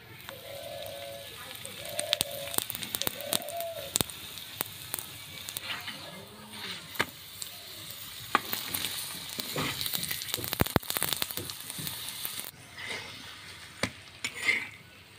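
Mughlai paratha deep-fries in hot oil with a crackling, bubbling sizzle that rises and falls, broken by sharp clicks and clatter of handling, and short tonal sounds early on.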